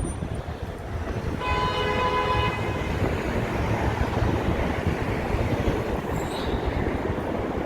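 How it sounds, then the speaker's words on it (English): An elevated train rumbles past on the tracks above a downtown Chicago street in the theater district, a loud steady roar with a sustained horn-like tone early on and faint squeal near the end. "There's one more train coming, so let's get one more. Train number 4. Here it comes."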